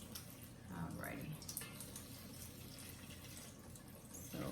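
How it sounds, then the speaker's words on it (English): Running tap water filling pots in a home kitchen, a soft continuous splash and hiss beneath someone talking, faint overall with light clatter. "So I'm gonna let those fill up with water for a second."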